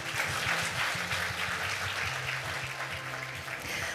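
Audience applauding at the opening ceremony of an APEC SME Working Group workshop, a steady sustained clapping that stays even in level throughout, with a low musical or tonal line running beneath it.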